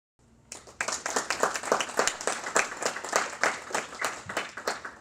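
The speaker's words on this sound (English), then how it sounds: "please give a round of applause to today's speakers, Professor David Shinn" An audience breaks into applause for the speakers at a moderated panel discussion, distinct individual claps building quickly after a quiet start into a steady, fairly close round of clapping that carries on to the end.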